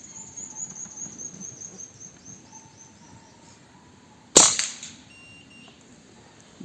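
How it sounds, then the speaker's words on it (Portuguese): A single sharp PCP air rifle shot fired for a velocity check with lead pellets, a loud crack with a quick decay over a quiet background with faint tones before it. "Então, um disparo aqui só para entender a velocidade mesmo"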